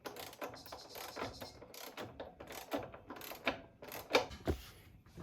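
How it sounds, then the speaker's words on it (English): A wrench tightens the rear wheel adjustment bolts on an Indian Challenger motorcycle, producing dense, rapid ratcheting clicks and metallic ticks up close, with no talking. "we'll go ahead and tighten the adjustment bolts"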